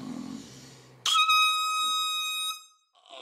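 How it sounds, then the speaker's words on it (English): One loud air horn blast rings out for about a second and a half, a bright sustained tone that cuts off sharply, following a moment of low room noise and ending with a faint trailing sound. "can you hit me with the air horn one time?"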